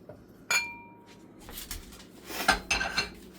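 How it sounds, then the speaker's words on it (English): Canned ham meat is added to glass jars, with a sharp clink of glass, then a run of scraping, tapping and clattering as pieces drop in, close and fairly loud. "First thing we do is add all the meat to the jars."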